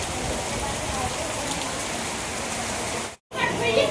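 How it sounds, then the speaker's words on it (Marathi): Constant rain hiss fills the background, steady and fairly loud, with a brief cut in the sound near the end and some voices faintly mixed in. "पुरा पाऊस बनतो वगैरे"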